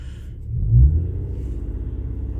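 An Infiniti engine idles with a low, steady rumble, swelling briefly before settling into an even, pulsing idle that stays close and loud.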